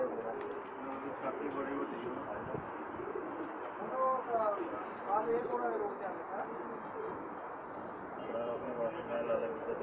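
Pakistani pigeons coo in soft, repeated throaty calls at close range, with several birds overlapping under faint chirps and a voice talking quietly in the background.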